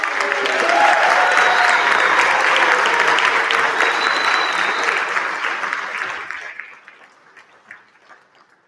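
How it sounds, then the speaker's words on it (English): Audience applause after a band's set at the El Pueblo Canta 2023 concert, a loud sustained wash of clapping that fades out over the last couple of seconds. "Let's another round of applause for them."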